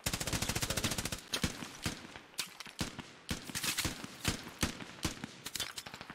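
Gunfire in a shooting game, a rapid automatic burst at first, then scattered single shots and short bursts crackling sharply at close range, with no talk.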